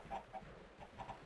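Chickens in a Minecraft egg coop give a few short, soft clucks, evenly spaced and quiet over a low background.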